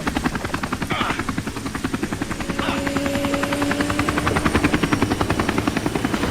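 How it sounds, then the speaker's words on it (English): Helicopter in an Army of Two video game cutscene, its rotor chopping loudly and steadily at close range, slowly growing louder, with engine whine underneath and no speech. "Let's land on the roof. This is Chamin Su's chopper"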